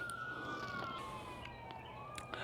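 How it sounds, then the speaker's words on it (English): Fire engine sirens wail, rising and falling steadily at a distance, carried over a constant low background hum, with no voices present. "This is probably the 3rd time today I've heard these sirens going off."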